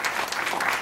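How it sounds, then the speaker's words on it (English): Brief, steady audience applause at a talk event honouring Yashwant Sinha, a dense wash of many hands clapping at moderate distance with no voices over it. "So you can have a round of applause for Yashwant Sinha ji,"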